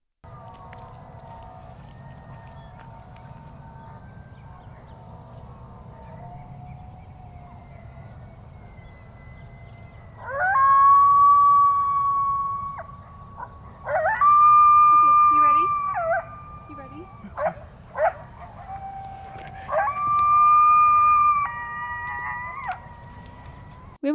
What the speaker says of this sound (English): we were sitting down when the sirens went off, and I heard one coyote in the background